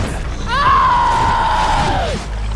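A scream in an animated story as a character is pulled through a portal: one long, loud, sustained cry that slowly falls in pitch over a continuous rushing background.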